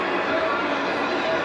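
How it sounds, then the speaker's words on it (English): Artificial stadium crowd noise piped into an NFL stadium to meet the league's non-reacting rule: a flat, steady wash of murmuring crowd held at about 70 dB, with no swells or cheers. "It's just a flatline sound, 70 dBs, to give the players a little bit of feel of crowd."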